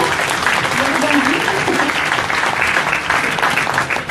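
An audience claps steadily and loudly after a three-minute pitch at a startup pitch marathon, with voices mixed into the applause.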